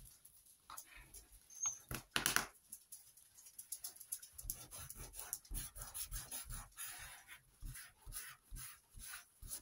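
Faint dog sounds: soft panting, small whimpers and pattering paws in a quiet room, with a few sharper clicks early on.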